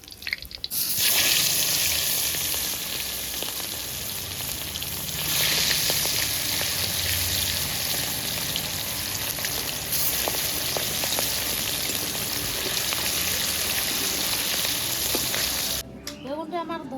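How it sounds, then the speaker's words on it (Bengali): Hilsa fish frying in oil give a steady, loud sizzle that crackles and spits continuously throughout, close to the pan, with a brief clatter near the end. "মাছগুলো একবারে আমার হালকা হালকা ভাজা হয়ে গেছে"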